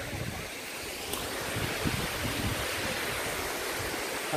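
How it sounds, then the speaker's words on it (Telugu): Tambdi Surla waterfall in Goa roars as a broad, steady rush of falling water, reached at the end of a forest trek. The sound is loud and continuous, with some wind buffeting the microphone and no talking. "చూడండి వాటర్ ఫాల్స్"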